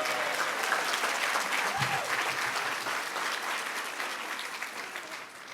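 An audience applauds for Doug Pitzer at a Melrose Plaza gathering, steady dense clapping that fills the whole stretch and tapers slightly at the end, with a brief voice murmuring early on.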